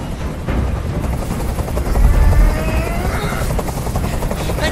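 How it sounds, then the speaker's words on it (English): A helicopter in the Detroit: Become Human video game, a loud, steady rotor thump and engine roar filling the scene throughout, swelling slightly in the middle. "I can't stand that noise anymore. Tell that helicopter to get out of here."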